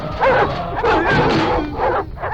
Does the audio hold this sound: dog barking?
yes